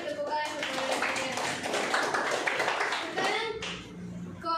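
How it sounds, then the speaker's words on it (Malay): A burst of applause from a group, many hands clapping together close by, fading toward the end with voices chattering over it. "berikan tepukan kepada saya"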